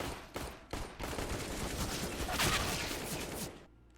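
Pistol-round gunfire in a Counter-Strike esports match, a few sharp shots and then a dense burst of overlapping fire, moderately loud, fading out at the end.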